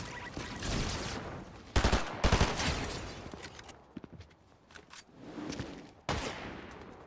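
Gunfire in the video game Fortnite: bursts of rapid shots and sharp single cracks, loud and close, spread in clusters with quieter gaps and faint footsteps between.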